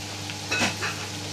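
Chicken strips dropped into a pan of frying onions for chicken adobo flakes, giving a close sizzle with a brief louder crackling burst as they hit the oil; no talking.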